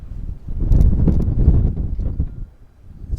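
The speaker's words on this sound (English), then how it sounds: "It's very windy down here today." Strong wind buffeting the microphone on a beach boardwalk in winter, with a loud rumbling roar that gusts and briefly dips near the end.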